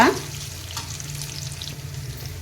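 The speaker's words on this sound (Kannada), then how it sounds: "ಇದನ್ನೀಗ ನಾವು ಫ್ರೈ ಮಾಡ್ಕೋಬೇಕು ಸ್ಲೋ ಉರಿಯಲ್ಲೇ ಫ್ರೈ ಮಾಡ್ಕೊಳ್ಳಿ" Ingredients for mango sasive fry in a pan over a low flame, making a continuous, close, even sizzle with light stirring.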